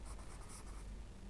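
Pen or marker writing on a board during a partial-fraction integration lesson, a faint continuous scratchy stroking sound over steady background hiss, without speech.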